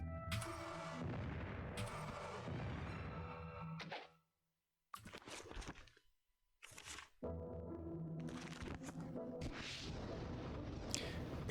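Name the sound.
explosion spell in video game Might and Magic VII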